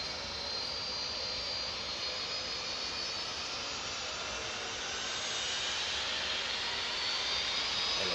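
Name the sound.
freighter aircraft at East Midlands Airport at night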